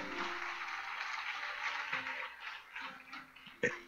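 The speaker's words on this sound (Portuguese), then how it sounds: "E quem crê, dê um aplauso" A church congregation breaks into applause, a dense, steady wash of clapping that thins and tapers toward the end with a few scattered claps and a sharp final clap.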